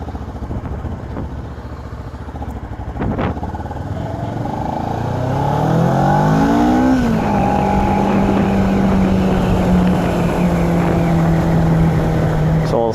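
Motorcycle ride at about 33 mph with the rider's visor up: a steady engine drone rising in pitch as it accelerates and then holding a constant tone, with heavy wind rush throughout.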